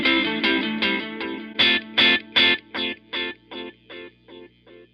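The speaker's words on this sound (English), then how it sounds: "you do get some distortion out of the delays if you do that" A distorted electric guitar note repeats as a string of echoes from a Dawner Prince Boonar delay pedal, each pulse fading a little quieter in a steady rhythm.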